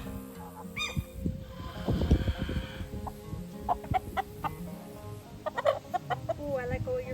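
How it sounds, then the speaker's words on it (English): Barred Rock chickens cluck and chatter in short, scattered bursts nearby, with rustling and handling sounds and occasional quiet human voice in between. "Three barred rocks."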